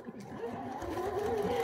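Sewing machine stitching a face mask seam: a short, soft whirring run that starts and settles into a steady motor tone, close by, with a voice speaking over part of it.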